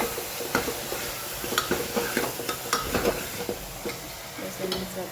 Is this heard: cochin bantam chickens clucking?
no